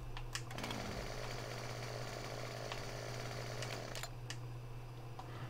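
A chainsaw de-limbing trees in Farming Simulator 17 gives a steady, buzzing mechanical drone that holds at an even level throughout, with a few faint clicks on top and no talking.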